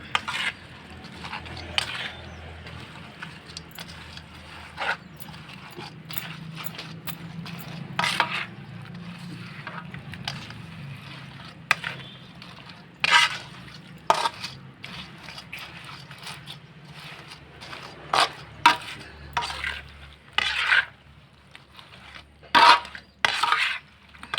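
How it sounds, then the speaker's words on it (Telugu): A spoon stirs salted food through oil in a pan to finish a bitter gourd chutney, giving intermittent scraping clinks against the metal over a faint low background, with bursts of louder contact scattered through the clip. "ఇప్పుడు మొత్తం ఈ ఆయిల్లో కలిగి పెట్టాలి"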